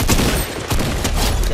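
Gunfire in the video game Fortnite, OG ranked mode: loud, dense bursts of rapid shots fired back to back, close and continuous throughout the short moment.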